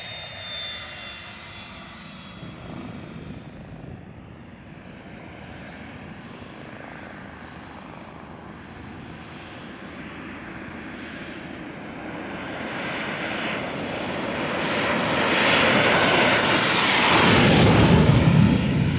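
A Pilatus PC-24 Swiss business jet's engines roar and whine steadily, with a high tonal whistle fading out and a broad rushing noise swelling louder toward the end, heard without talk.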